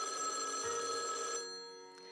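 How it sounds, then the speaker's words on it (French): A telephone bell rings steadily and brightly, its tone holding for over a second before cutting off and leaving a fading electronic trail. "et le téléphone, il sonne."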